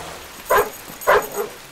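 Excited dog barking twice in quick bursts, a friendly dog greeting people happily, close and clear with a softer yip trailing after.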